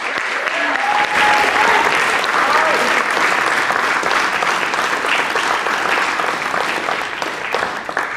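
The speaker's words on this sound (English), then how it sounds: "let's do a big round of applause" Loud, sustained audience applause at a game design event at the Cambridge Science Festival 2024, a dense wash of clapping that swells after a second and holds steady to the end, with faint voices underneath.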